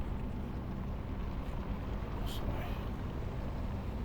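A tractor engine idles in a farming video game, giving a steady, even low drone with no changes in pitch, while a voice says one brief word over it.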